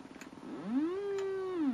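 Engine of a car in the Commodore 64 game Stunt Car Racer, a synthesized tone that sweeps upward and then holds a steady buzzing drone, loud and close, with nobody talking.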